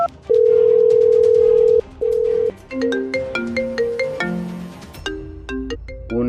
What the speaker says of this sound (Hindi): ये गौरव सर का फोन तेरे पास कैसे बज रहा है?